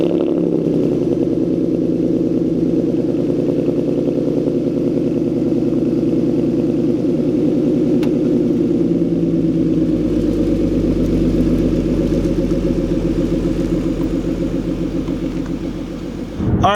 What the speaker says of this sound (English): the next clip you guys are going to see is going to be me going ahead and giving a nice little cold start